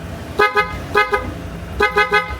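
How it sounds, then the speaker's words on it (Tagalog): A loud, brassy aftermarket horn on a Honda Click scooter honks in three bursts, each a quick double or triple toot, close by and harsh. "Tapos pag naka PIA horn, ayun di ba?"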